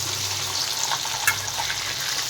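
Fish fry in a pan with a steady, dense sizzle and crackle that stays close and constant, with a few brief pops and no talk.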